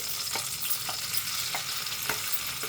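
Ground masala for stuffed brinjal curry (guthi vankaya) frying in a pan, a constant sizzle with four evenly spaced spatula scrapes, close and alone without any voices.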